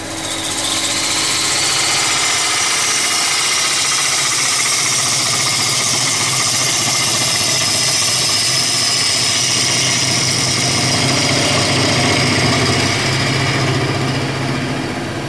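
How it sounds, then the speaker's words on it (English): A loud, continuous motorized whir and grinding of a wood lathe drilling a hole in a turned giant wooden thread spool, sustained without pause for the whole stretch, with no voices. "drill in a hole."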